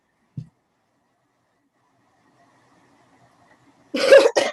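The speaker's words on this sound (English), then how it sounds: "I have a cold, so that's why I've been coughing." After a soft thump and a long near-silence, someone nearby lets out a loud, rough cough in two quick bursts.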